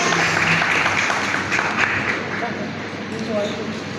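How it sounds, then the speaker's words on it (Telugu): Audience at a church women's Sunday event clapping steadily, a continuous dense wash of applause that holds at an even level for the whole stretch, with voices faintly mixed in. "అందరూ చప్పట్లు కొట్టి"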